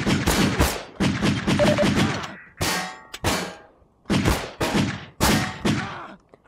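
Pistol shots in the dystopian first-person game Dissolution fire in separate short bursts with gaps of silence between them. The bursts are loud and close and sound sharp and percussive.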